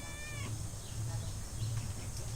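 A cat meows once in a short, clear, tonal call near the start. A steady low hum and faint background noise continue underneath.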